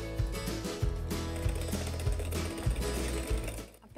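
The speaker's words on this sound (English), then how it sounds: "They need to be clean to whisk the egg whites." Steady, loud mechanical whirring of an electric whisk beating egg whites in a bowl, with a rhythmic rattling pulse throughout, close up.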